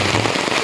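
Steady rain falls over a rural dirt road under construction in a farm area, a dense, continuous hiss with scattered patters, fairly close and with no voices.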